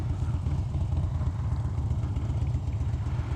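Motorcycle riding across town gives a low, rumbling engine drone that throbs steadily, fairly quiet and continuous, with no talking.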